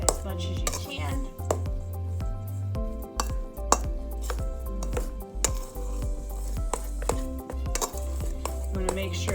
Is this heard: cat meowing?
no